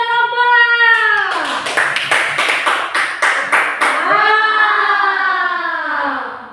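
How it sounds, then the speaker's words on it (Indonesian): Classroom students clap for a group during a micro-teaching practice lesson, a quick burst of several sharp, fairly close claps between stretches of a sustained, tonal voice. "Tepuk tangan buat kelompok."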